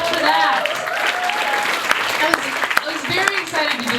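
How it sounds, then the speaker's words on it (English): Clapping from a stand-up comedy crowd at a mental health festival showcase, moderate and continuous with a few sharper claps, while the comedian keeps talking over it. "Yes, clap for that."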